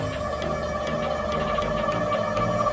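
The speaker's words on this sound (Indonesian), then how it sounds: "Dan nanti kalian bisa dengar suara dari dinamo BLDC 350 watt." A 350 watt BLDC planetary motor running without its hall sensor, powered from a battery through a Huawei controller, gives a steady tonal whine with a faint rhythmic ticking, close and continuous with no talking.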